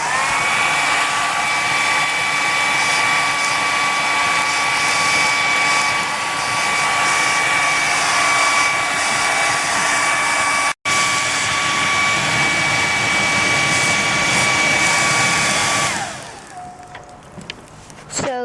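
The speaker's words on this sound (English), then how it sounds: "you can put the hairdryer on" A loud, steady hair dryer roar blows continuously into a charcoal fire for heat-treating knives, with a high whine, briefly cutting out once, then fading down near the end.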